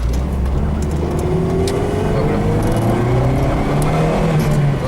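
An FSO Polonez Abimex 1.6 GLI running on gas (LPG) drives along with a steady, loud interior engine drone and road rumble, the pitch rising gently as it pulls.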